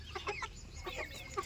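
Goa breed chickens kept in boxes give a few short, close clucks in quick succession, with no talk over them.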